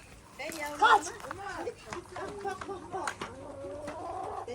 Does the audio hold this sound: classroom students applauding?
no